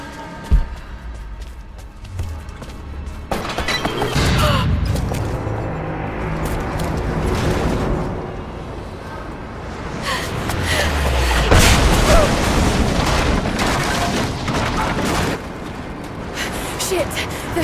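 Catapults firing in the Rise of the Tomb Raider video game, heavy booming impacts and rumbling crashes layered over dense game ambience, with a loud hit near the start and more surges midway, while a voice speaks over it.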